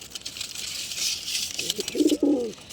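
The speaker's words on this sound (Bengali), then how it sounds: "super quality Payra" Pigeons in a breeder loft give a few low, throaty coos near the end, close and clear over a steady hiss of background noise.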